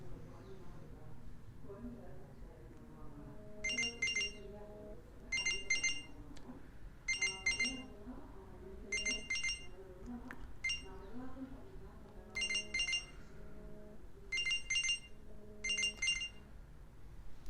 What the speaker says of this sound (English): I pressed Find My Watch, and if the watch is near, then it will play a sound and a vibration.